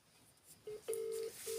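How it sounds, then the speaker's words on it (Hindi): Telephone keypad dialing tones ring out as a phone number is placed: a couple of short beeps, then a longer sustained tone and another beginning, clear and close with no talk. "मैं उस पर फ़ोन को लगाने जा रही हूँ।"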